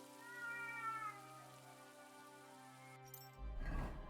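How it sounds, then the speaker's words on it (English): A cat meowing, a long, wavering, drawn-out meow heard faintly over steady rain and a low droning background, followed by a short rustling noise at the end. "Our cat meowed"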